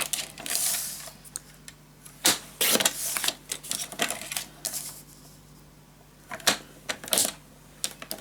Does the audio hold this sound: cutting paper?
yes